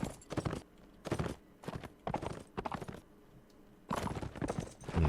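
Horse hooves clop in the video game Mount & Blade: Warband in quick bursts of uneven rhythm, with short pauses between runs of steps.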